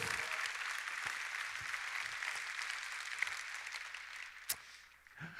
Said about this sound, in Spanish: Quizás hay un fuerte aplauso, se lo van a dar al Señor